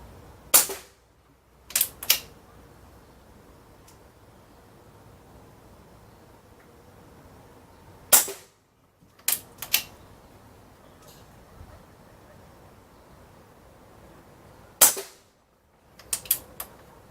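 .22 Benjamin Maximus air rifle firing Barracuda Hunter pellets: sharp, close cracks spaced seconds apart, some followed quickly by a second snap or metallic click from cocking and pellet impact, with quiet gaps between.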